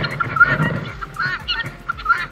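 Harsh, honking guinea fowl calls repeat in bursts, loud and close, with a few short squawks scattered between them.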